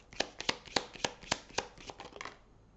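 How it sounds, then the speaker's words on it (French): Tarot cards riffled and flicked in the hands at close range, a quick run of about a dozen crisp snapping taps before trailing into quiet. "Bon, elles se sont retournées"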